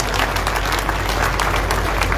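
A brief burst of dense crowd applause rises at a public ceremony gathering, a loud, even wash of many hands clapping for about two seconds.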